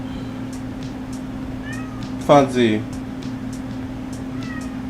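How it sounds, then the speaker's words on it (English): A house cat meows in a short rising-and-falling cry, followed by a softer second call, heard over a steady air-conditioning hum with a person speaking nearby. "Have you ever heard a cat talk so much?"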